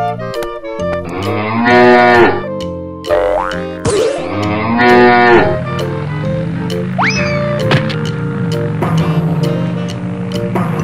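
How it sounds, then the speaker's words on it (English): Cow mooing, several loud drawn-out moos in a row heard close, with cartoonish boing-like sound effects mixed in. "Cow."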